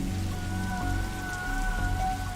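Steady rain falls in the Darkside Detective video game, a dense continuous hiss that holds evenly throughout, with a faint tonal background hum underneath.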